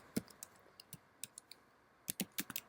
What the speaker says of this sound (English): And this time you're going to type in your instructor's name.